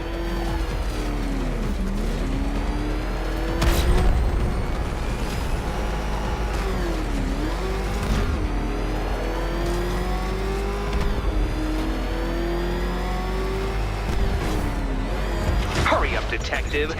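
Batmobile engine in Batman: Arkham Knight, a loud sustained roar that rises and falls repeatedly as the car revs, shifts and slows, with mechanical clanks and impacts mixed in, close and continuous.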